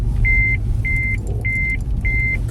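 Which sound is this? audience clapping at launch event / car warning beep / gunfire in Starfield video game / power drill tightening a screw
car warning beep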